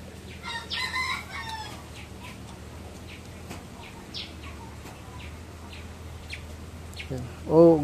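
Free-roaming village chickens cluck and chirp in short bursts over a quiet yard, with a single loud, close rooster crow rising sharply at the very end.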